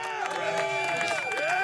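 A soundboard applause-and-cheering effect plays in a short, steady burst of crowd noise with voice-like cheers running throughout at an even, fairly loud level, with no break.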